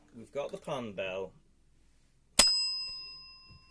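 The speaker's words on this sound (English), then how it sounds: "So we have the pun bell." A pun bell, a small desk bell, gives a single bright, loud strike that rings out and slowly decays, following a stretch of talk and a quiet pause.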